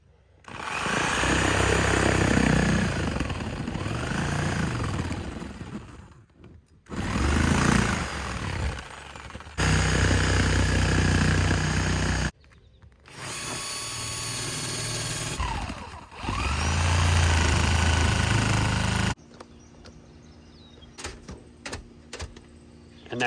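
A reciprocating saw cuts an opening through a shingled roof on a brooder building. Loud rapid buzzing comes in several bursts of a few seconds each, separated by short pauses, then quieter scattered tapping and handling noises at the end.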